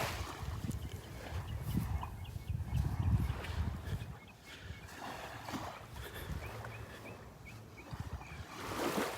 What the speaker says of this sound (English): Listen to all those birds in the background.